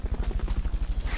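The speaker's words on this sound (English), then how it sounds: "Fulton, recovery helicopter is complete." A helicopter's rotor thumps in a fast, even pulse in the video game Metal Gear Solid: Peace Walker, loud and close, with no voices over it.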